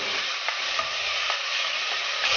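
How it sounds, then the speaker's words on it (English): Chopped tomato frying in a pan for a methi pulav, a steady close hiss of sizzling with a few faint stirring taps, no voices. "Fry for a minute or two until it is soft and slightly pulpy."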